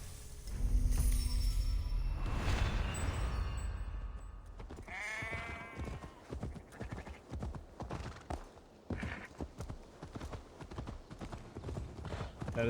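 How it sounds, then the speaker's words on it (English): A horse in the video game Assassin's Creed Valhalla gives a loud, noisy outburst at first, then its hooves clip-clop in a quick, steady rhythm that carries on to the end. "Fucking stupid horse."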